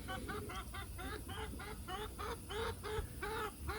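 A flock of hens clucks continuously in rapid, overlapping bursts, close by and fairly loud, with a busy farmyard murmur behind.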